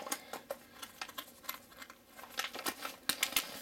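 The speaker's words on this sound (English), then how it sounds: "Let me grab some scissors and kind of cut a little closer to get this open." Scissors snip through crinkly snack packaging at an unboxing, sounding as faint, close, irregular clicks and plastic rustles in an otherwise quiet room.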